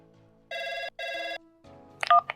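A call-in line phone rings on a late-night radio advice show, two clean electronic ring bursts of equal length separated by a short gap, loud and close, followed by a brief low tone and a clicking pickup at the end.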